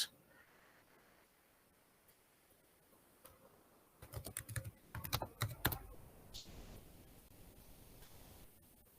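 Typing on a computer keyboard to search for the WooCommerce plugin, a quick close burst of keystrokes in the middle after quiet room noise, with a few scattered taps before and after.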